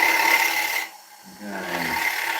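A tool rasps against a spinning green oak tenon on a wood lathe in a close, gritty scraping that briefly drops away near the middle and then resumes at full strength.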